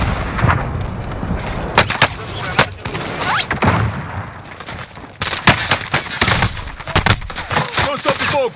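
A frag grenade goes off in Call of Duty: Modern Warfare among a string of sharp, booming blasts and gunshots, with a voice briefly heard over the combat.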